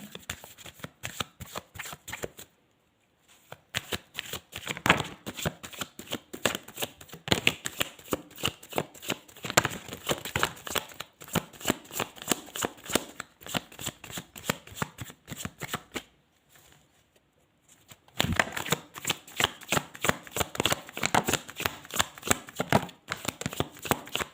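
Tarot cards are shuffled for a reading, a steady rapid riffling that runs close and loud, broken by two brief pauses before the shuffling resumes.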